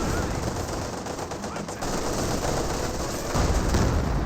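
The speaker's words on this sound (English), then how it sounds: "That T-54-85's coaxial hull mount are quite effective, like the T-54-76" A T-54-85 tank's coaxial hull machine gun fires in Company of Heroes 2, rapid rattling bursts layered over battlefield noise and distant booms, steady and loud for several seconds.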